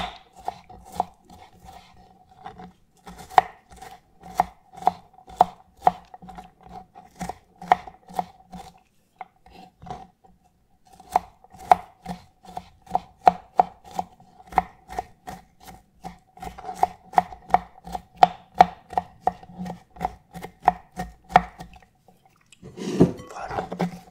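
Knife chopping curry stir-fry vegetables on a cutting board, with steady bursts of close, crisp taps in quick rhythmic runs, a short pause midway, then a final rustling scrape as the pieces are gathered.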